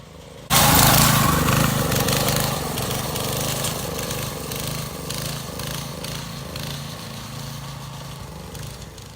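A go-kart engine fires up abruptly and runs loud and close, its note wavering and surging in an uneven oscillating rhythm before settling slightly.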